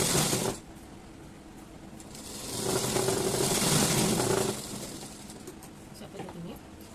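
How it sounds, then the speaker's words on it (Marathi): Sewing machine topstitching fabric along the lining of a sleeve, a close mechanical whirring run that starts, speeds up and settles, with a voice talking around it. "अशा पद्धतीने अस्तरच्या बाजूला टापटीप मारून घ्यायची आहे."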